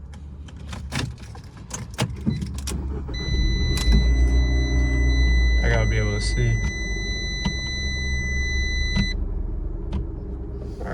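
A car engine starts inside a parked car in a dark parking lot, settling into a steady low rumble that runs beneath a person talking, with a chime tone and some clicks.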